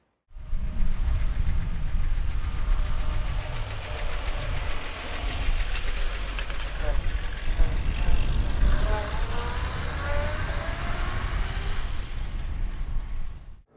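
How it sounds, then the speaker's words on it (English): A 1938 Chevrolet coupe with a floor-shifted three-speed runs steadily and close by, its engine note rising and shifting partway through as it pulls away. "All right, let's take 38 Chevy for a ride."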